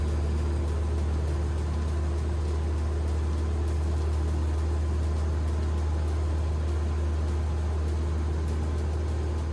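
Cessna light aircraft engine on its takeoff roll from runway 18 at Traverse City, a loud, steady low droning roar with broadband noise filling the whole clip, no talk.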